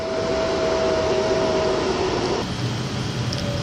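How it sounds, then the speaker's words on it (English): A Glasgow Central service pulls into Wigan North Western station on a freezing evening, a steady loud rumble of wheels and engine with a sustained whine that drops away partway through, no talk over it. "as the Glasgow Central 1925 service pulls in"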